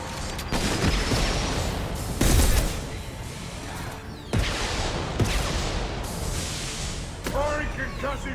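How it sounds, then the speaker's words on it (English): Rifle fire in Mass Effect 2 cracks out in a series of sharp, fairly loud shots spaced a second or so apart, mixed with thuds and combat effects. "I love this rifle."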